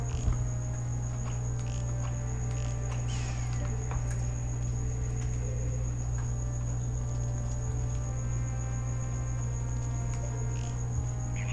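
A cricket chirping steadily in a night setting, a faint, continuous high trill held under a low constant hum throughout, with no talking.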